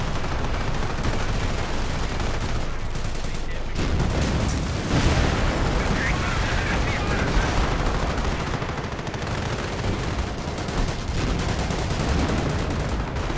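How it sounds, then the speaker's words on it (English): Company of Heroes battle with British 17-pounder anti-tank guns pounding a German Panther tank: dense, continuous gunfire, blasts and explosions roll on at full loudness, with no talk on top. "He's getting hit by all the 17-pounders."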